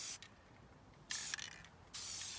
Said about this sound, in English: Okay, everybody do one more spray after Aubrey goes.